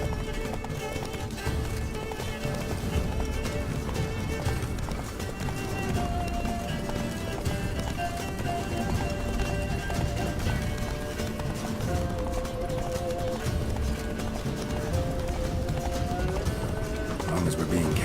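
Horse galloping in The Witcher 3 video game, a fast steady rhythm of hoofbeats running continuously under game music, with voices talking over it.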